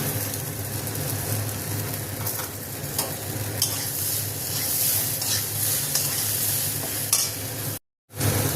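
Broken wheat and lentils frying in a pan for khichuri, with a spoon stirring continuously through a steady, dense sizzle, close and fairly loud, with no voices and a brief cut near the end.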